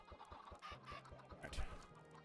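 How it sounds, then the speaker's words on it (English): Chickens in the video game Minecraft cluck in short, repeated bursts, several birds overlapping in quick, irregular rhythm at moderate, close volume, with no talking over them. "There's so many chickens that are giving sounds"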